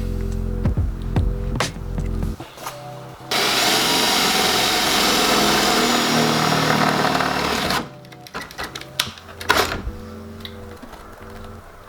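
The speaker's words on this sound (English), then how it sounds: "So let's drill some holes." A power drill bores a 6.5 mm hole through the rear wing lip of a Mazda MX-5, a long steady loud whine bracketed by shorter bursts and clicks of the trigger, with no talking.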